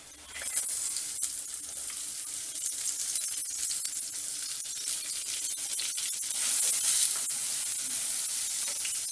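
Onions sizzling and frying in a pan while cooking red chilli chutney, a steady crackling hiss with bright spitting pops throughout, close and continuous with no talk.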